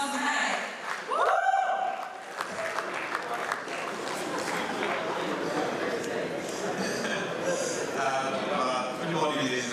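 Audience at the VULTe unveiling event by Polaris Bank breaks into sustained applause with cheering, preceded by a brief whoop; the clapping stays steady and full throughout.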